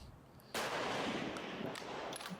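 A single sharp shot from a .284 Shehane competition rifle at a shooting match, loud and close, its blast trailing into a sustained rumbling echo.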